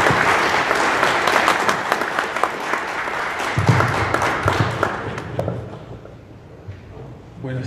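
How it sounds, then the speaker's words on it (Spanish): An audience at an academic lecture applauds to welcome the speaker, a loud dense burst of clapping that thins and fades after several seconds, with a few thumps and scattered claps near the end. "Lo recibimos con un aplauso."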